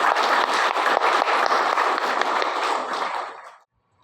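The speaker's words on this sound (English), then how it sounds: "I think they deserve a big round of applause." An indoor audience at a college thanksgiving ceremony claps loudly and continuously, dense applause that holds for about three seconds before fading out and stopping.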